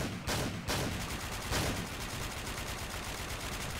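Rapid gunfire in a multiplayer shooter video game, a steady stream of shots with a few louder bursts early on, loud and continuous with no talking.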